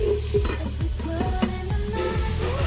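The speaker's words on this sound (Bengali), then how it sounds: "সব সবজিগুলো একসাথে ভাজতে বসিয়েছি" Mixed vegetables sizzle in a hot pan for chira pulao while a utensil stirs them in short repeated scrapes, close and clear with a steady frying hiss underneath and no talking.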